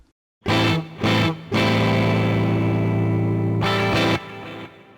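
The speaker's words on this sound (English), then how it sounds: "I get a nice slightly crunchy tone with my Les Paul Gold Top" A Les Paul Gold Top electric guitar through an Axe-Fx III amp modeler, with a slightly crunchy, distorted tone, plays two short stabs and then a sustained ringing chord that fades out.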